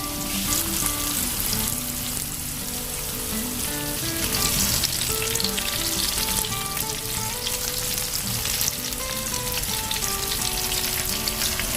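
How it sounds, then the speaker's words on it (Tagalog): Lady fish fillet fries in a pan with a steady, dense sizzle and crackle that runs on evenly, close and fairly loud, with no talking. "so lutuin lang natin itong ating fish fillet o bid fillet o lady fish fillet."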